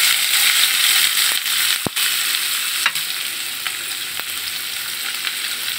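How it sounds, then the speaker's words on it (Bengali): Sliced onions frying in hot oil in a frying pan, with bay leaves going in: a steady, loud broadband sizzle with a few sharp clicks and spatters, and no voices. "এবার আমি ফ্রাই প্যানে তেল গরম করে নিয়েছি, দিয়ে দিব কেটে রাখা পেঁয়াজ"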